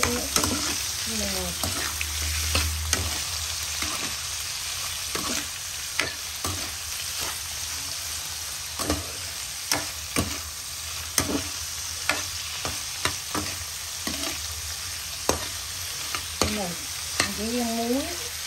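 Shrimp being stir-fried in a pan with salt and chili, giving a steady close sizzle broken by frequent sharp clinks of a utensil against the pan and occasional faint voices.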